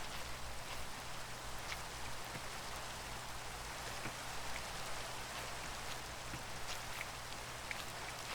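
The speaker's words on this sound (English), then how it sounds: "So I hear the rain, but I don't see much of it." Steady rain in the video game Minecraft patters continuously at a soft, even level, with occasional sharper drops standing out against the constant wash.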